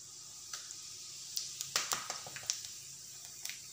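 Fennel and cumin seeds dropped into hot ghee, giving a quiet crackle with scattered pops and short sizzles over a soft steady hiss.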